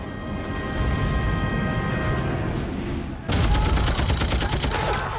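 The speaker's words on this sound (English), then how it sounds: "When the Allied forces land, they're met with a hail of machine gun fire." Heavy gunfire from a WWII Allied beach landing against German Atlantic Wall bunkers rattles on relentlessly, with a dense burst of rapid shots erupting louder midway through the din.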